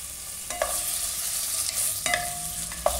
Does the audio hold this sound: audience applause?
no